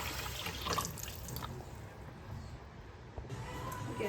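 Vegetables rinsed by hand under running water in a kitchen sink, a steady trickle and splash with small drips, near and quiet, with the flow easing briefly partway through.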